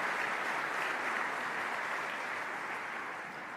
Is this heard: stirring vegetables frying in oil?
no